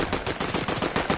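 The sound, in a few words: gunfire shooting a building in Fortnite video game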